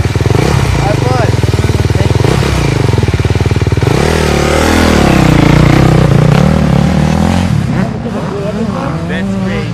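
Kawasaki KLX 140 dirt bike engine revving nearby at a training camp facility, loud rising and falling throttle blips with rattly mechanical clatter, voices talking over it.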